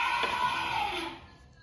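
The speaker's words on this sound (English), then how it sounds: "The elephant sounds like this." An elephant call played back by an Amazon Alexa smart speaker, a bright sustained trumpeting blare lasting about a second before fading, with no talk over it.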